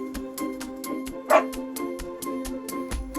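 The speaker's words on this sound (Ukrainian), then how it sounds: "Пес каже гав," One short, high dog bark or yip pops out once over a rhythmic music track.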